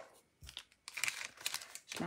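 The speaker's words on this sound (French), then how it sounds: "Alors, un petit ciseau." Scissors snip through string while making greeting cards, giving several quiet, crisp crunching cuts in short bursts, close and isolated with no talking over them.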